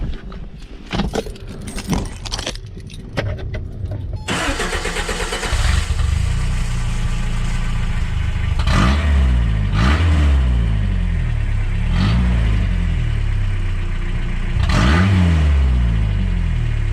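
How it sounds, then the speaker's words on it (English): A Toyota pickup engine running without a muffler: keys jangle, the engine cranks and starts, then idles raw and loud with several sharp revs rising and falling, close by. "we're gonna show you guys right now what it sounds like without a muffler."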